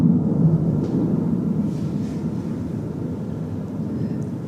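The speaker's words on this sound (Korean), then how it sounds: "비행기가 끊임없이 부활절을 축하하는 소리가 엄청납니다" An airplane flies overhead during an Easter service, a steady broadband low rumble that fills the whole stretch at a fairly loud, even level and fades slightly toward the end.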